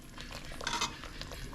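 Spicy country crab curry being stirred in a pot after crushed garlic and pepper are added, with soft scraping and clinking of a utensil against the pot, a brief louder clink near the middle, and no talk.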